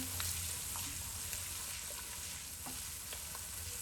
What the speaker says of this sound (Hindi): इसको बराबर हिला लेते हैं ताकि हमारे जो मसाले हैं वो अच्छे से इसमें फ्राई हो जाएं